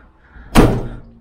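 A campervan door is shut with a single loud, close slam and a short boomy thud that fades quickly.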